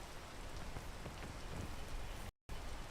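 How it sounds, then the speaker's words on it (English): Steady rain falls in a video game, a dense, even hiss of drops on surfaces, fairly quiet and continuous, briefly cutting out to silence near the end, with no talking. "To be honest, I've never stood in the rain."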